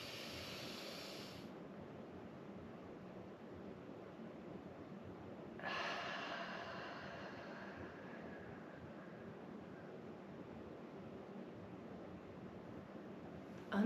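Deep, slow breathing during a yoga breath exercise, a steady airy rush running through the clip with a brighter, louder inhale swelling in near the middle, close and alone without talk.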